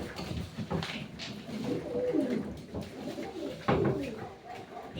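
Soft, throaty cooing of pigeons, several low rolling calls repeating close by, with some faint rustling and a voice in the background.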